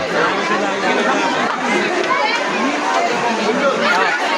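A dense crowd chatters continuously, many overlapping voices blending into a steady, busy murmur close around the listener.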